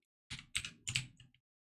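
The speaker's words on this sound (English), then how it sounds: "finish typing this" Several crisp computer keyboard keystrokes in quick clusters, close and clear, with silence before and after, while coding a server frontend.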